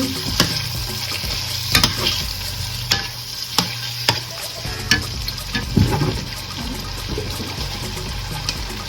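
Stirring a turkey wing mixture in a pan, Southern-style, with a steady wet scraping and sloshing, repeated utensil knocks at a regular pace, and a faint sizzle underneath.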